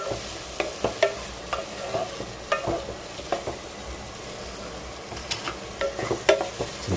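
Chopped onions fry in hot oil with a low, steady sizzle, broken by stirring taps and scrapes from a spoon that sound close and fairly quiet, with no talking.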